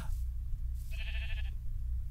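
Sheep bleating in the Minecraft video game, one drawn-out, nasal bleat in the middle of the clip, sitting over a constant low rumble of game background noise.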